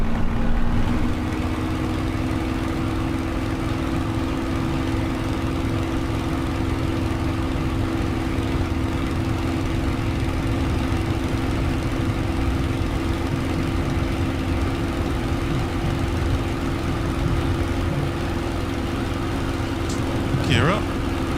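A Spitfire's piston engine in a flight simulator, given a little more power for takeoff at Solent Airport Daedalus: a steady, even engine drone that holds a constant pitch throughout.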